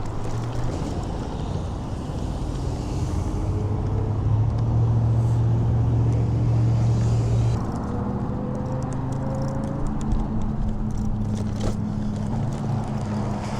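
Traffic rumbles at the busy Briggsmore and Claus road intersection, heard from an e-bike rider waiting to cross, with steady engine drone, passing vehicles and heavy wind buffeting the microphone.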